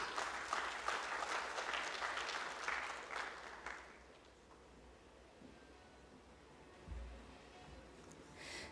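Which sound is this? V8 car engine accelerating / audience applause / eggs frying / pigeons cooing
audience applause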